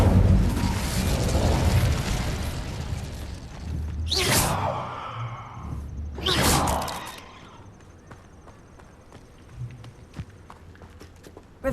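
In Hogwarts Legacy, an Incendio fire spell erupts in two loud, fiery whooshing bursts a couple of seconds apart, then quieter game ambience with faint ticks follows.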